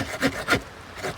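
A folding pruning saw with a short blade cuts through wood in three rasping strokes, each a rough scraping burst spaced about a quarter second apart, close and moderately loud with no talk.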